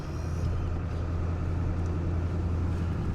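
A pickup truck with a snow plow idles to a stop, its low steady engine rumble constant and close throughout.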